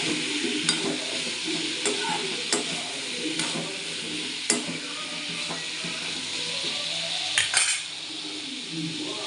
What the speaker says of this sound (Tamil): கொஞ்சம் உப்பு போட்டு நல்லா வதக்கிக்கோங்க.